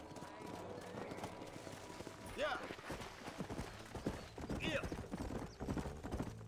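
Horse hooves clop at a quick, steady gallop through a Red Dead Redemption ride, with a couple of neighs or whinnies rising above, while voices talk over the rhythmic hoofbeats.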